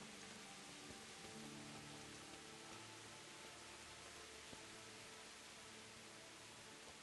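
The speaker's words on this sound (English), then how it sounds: "Bloody rain." Steady rain in the video game Kingdom Come: Deliverance, a constant soft hiss of falling drops that holds unchanged throughout, with no voices over it.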